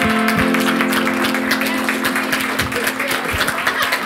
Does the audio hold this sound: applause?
yes